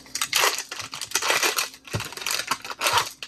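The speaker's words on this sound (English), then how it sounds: "let's cut up our sausage." Semi-frozen sausage being cut up, a steady series of crunchy, crackling slices with gritty texture, close and fairly loud, no voices.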